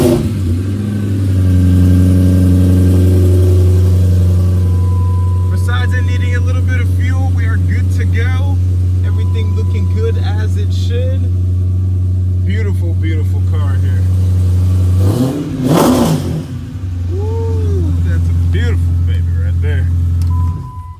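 A 2011 Dodge Challenger's engine runs with a loud, deep, steady idle, then a sharp rev blips up and settles back to a rumbling idle, with a person talking over it.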